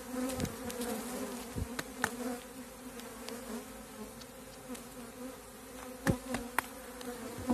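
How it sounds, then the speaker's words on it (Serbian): Honey bees buzz at an open hive during a chestnut honey harvest, a faint continuous drone with individual bees zipping closer now and then, with no talking. "Ima tu dosta još pčele."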